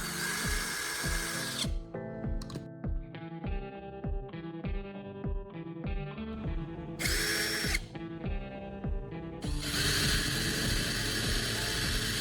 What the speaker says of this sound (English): I drilled a hole in the pipe of the appropriate size